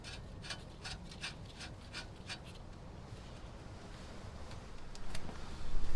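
A wrench rasps and clicks in quick repeated strokes while a nut is tightened on the new independent front suspension of a 1985-89 first-generation Toyota truck, close up, with the scraping growing louder near the end.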